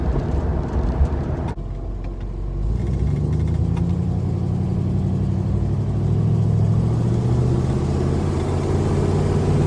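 A carbureted Dodge Charger with a new carburetor cruises over a rough, bumpy road, its engine rumbling low and steady from inside the cabin with thuds and rattles from the uneven surface, no voices.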